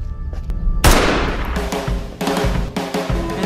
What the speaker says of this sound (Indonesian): tiba-tiba sebuah tembakan mengenai perut Angela.